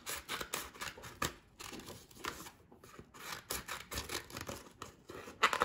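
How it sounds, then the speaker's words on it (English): Scissors snip through paper in a string of quick, crisp cuts with an uneven rhythm, heard up close and fairly soft, with no talking. "Cut it up till you're almost near the edge of the paper."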